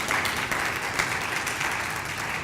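Ceremony audience applauding a speaker at a Phi Theta Kappa induction, a steady, moderately distant wash of many hands clapping with no break for the whole moment.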